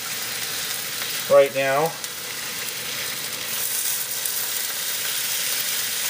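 Strips of bacon sizzle in a lightly oiled frying pan just below medium heat, giving a steady close hiss and crackle throughout while a voice speaks briefly.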